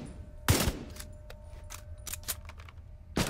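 Assault rifle fire in The Division 2 comes in short sharp bursts: a loud crack, scattered lighter shots and another close report at the end, over faint game ambience.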